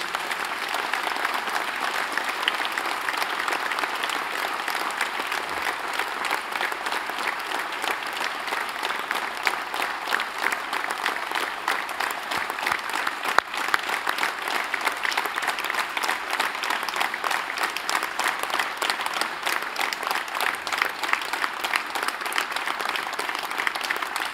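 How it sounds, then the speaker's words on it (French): At the 2015 New Year's address in Courcouronnes, a large audience applauds long and steadily, a continuous even wash of clapping for over twenty seconds. "J'aimerais qu'on les applaudisse très fort parce qu'elles le méritent."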